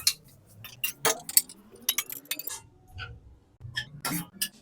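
Grated coconut stirred in hot ghee in a pan for a ragi coconut kozhukattai sweet, making scattered light clinks and scrapes of a spoon against the pan, close by and irregular.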